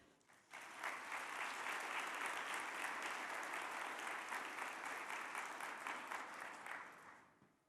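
An audience at a Junior Achievement opening session breaks into sustained applause that swells quickly, holds steady and loud for several seconds, then fades out.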